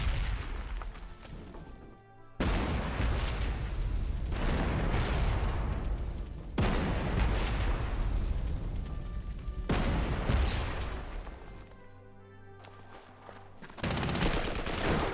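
Artillery barrages in the wartime strategy game Panzer Corps 2: repeated loud booming salvos of gunfire and explosions, several heavy bursts with rumbling tails and brief lulls between them, with no talk over them.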